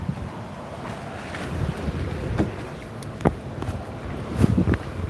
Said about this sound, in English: Now you can hear the wind and you can see the ocean